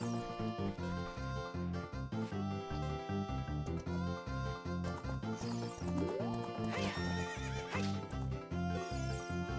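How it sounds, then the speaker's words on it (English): Horse whinnying at the ranch in the Ocarina of Time video game, heard under continuous loud game music, with a short sweeping call partway through. "One lap around the coral with that horse."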